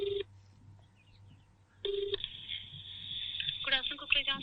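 A telephone call to a hospital and heart centre, with two clear repeating ringback tones separated by a pause on the line, then a short burst of dialing-like beeps and a voice coming through near the end.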